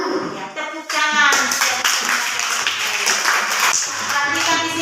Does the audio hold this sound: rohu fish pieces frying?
no